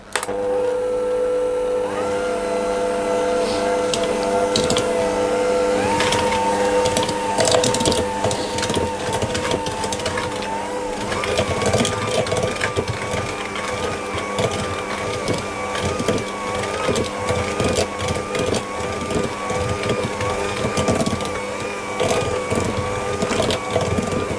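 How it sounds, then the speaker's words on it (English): An almond and coconut mixture with eggs and extract is blended into a paste for Congress tarts: a close, continuous motor whir with grinding, crunching clatter and no talking. "I'm going to mix it all until it becomes a paste."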